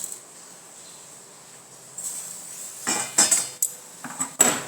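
Roasted spice masala being transferred from a pan into a dish in a home kitchen, heard as a run of close, sharp metallic scrapes and clinks of a utensil against cookware after a quiet start.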